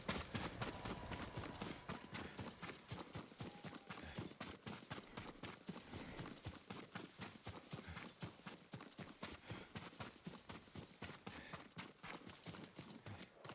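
Horse hooves clip-clop in a steady, fast rhythm through the Ghost of Tsushima video game, the regular beats running continuously and fairly quietly with no voices over them.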